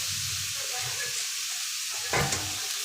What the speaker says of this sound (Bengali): নাড়বো, নেড়ে ব্রাউন কালারটা একদম ব্রাউন কালার এসে যাবে।